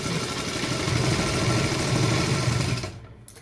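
Sewing machine stitching elastic onto an Afghani salwar, a fast steady whirring chatter of the needle close by, running continuously for about three seconds before stopping abruptly.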